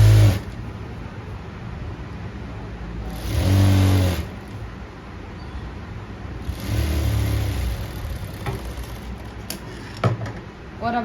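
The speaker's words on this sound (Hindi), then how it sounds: "इसको मैं सीधे पे सीधा रख के ऐसे सिलाई लगा लूँ" A sewing machine runs in short bursts while stitching kurti fabric, its motor whirring steadily for a second or more at a time with quieter gaps between runs, close and fairly loud.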